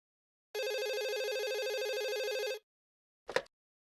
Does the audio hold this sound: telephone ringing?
yes